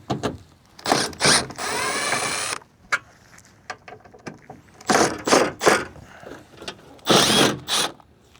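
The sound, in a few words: power driver removing T30 Torx screws from truck door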